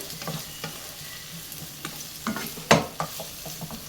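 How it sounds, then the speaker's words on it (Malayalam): Sliced onions and potatoes sizzle in a frying pan for a Spanish omelette while a utensil stirs them, with scattered scrapes and clacks and one sharper knock over a soft, steady fry. "ഇതെല്ലാം കൂടെ ഒന്ന് ഇളക്കി മിക്സ് ചെയ്യാം"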